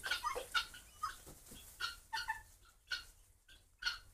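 Tithi chickens at a poultry farm cluck in short, repeated bursts, several birds close by, with brief pauses between calls and no talking.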